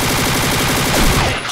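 Rapid gunfire in a shooter video game, a loud, fast string of evenly spaced shots that swells briefly before cutting off at the end.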